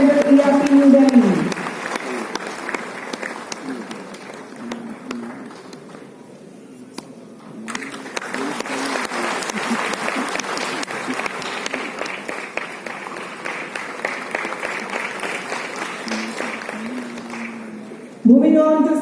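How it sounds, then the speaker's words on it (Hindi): Sustained applause fills a hall during a CPWD foundation day award ceremony, broad and continuous for most of the stretch, dipping briefly midway, with a voice speaking at the start and end. "बहुत ही जोरदार तालियों से अभिवादन कीजिए श्री वरुण गुप्ता"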